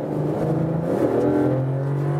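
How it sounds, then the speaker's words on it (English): A Mercedes E-Class All-Terrain wagon in sports mode accelerates with a kickdown, heard from inside the cabin. The engine drone holds steady, then rises in pitch as the revs climb, loud and continuous with no talk. "the car wasn't really that sure. Was accelerating first, but then decided, ah, let's do another kickdown"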